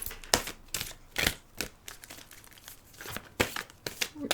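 Laminated tarot-style cards handled at close range, giving sharp plastic crinkles and rustles in irregular bursts, with no talk over them.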